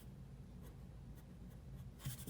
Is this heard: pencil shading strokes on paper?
yes